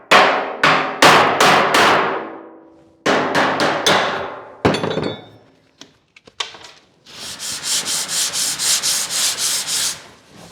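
Hammer and dolly tapping out a warped welded steel panel on a 1940 Ford-inspired build, sharp metallic blows in quick bursts, then a faster run of lighter even taps, loud and close.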